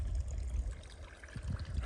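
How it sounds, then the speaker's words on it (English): Creek water trickles across a rural property, a steady close babble with low gurgles and no voices. "this is the creek that goes on my property over here"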